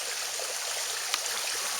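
Water spilling steadily over a one-level waterfall at the back of a backyard pond converted from a swimming pool, a continuous airy wash with one brief splash near the end.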